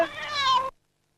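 A single close, drawn-out cat meow, loud and clear in a forest setting, lasting under a second and then cutting to silence.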